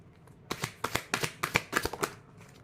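Tarot cards shuffled by hand during a card reading, a close run of about eight quick riffling bursts in uneven rhythm over roughly two seconds, with no talk.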